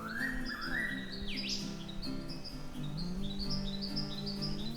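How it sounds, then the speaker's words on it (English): A white-browed scrub wren calls in the Eungella rainforest: a quick run of bright, chirpy whistled notes, close and clear over a busy chorus of other birds. "A white-browed scrub wren."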